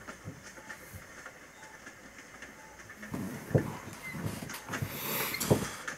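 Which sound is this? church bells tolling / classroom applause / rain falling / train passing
train passing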